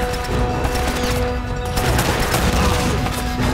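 Magnum pistol fire in the video game Uncharted: Drake's Fortune, a dense run of loud sharp shots and impacts over a busy game backdrop of clatter and blasts.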